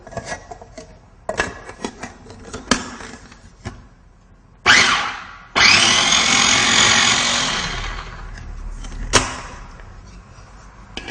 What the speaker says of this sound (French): au centre du mixeur pour que tous les ingrédients soient convenablement mixés